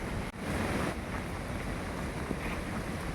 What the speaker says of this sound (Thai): ซึ่งนี่ก็เป็นน้ำตกนะครับ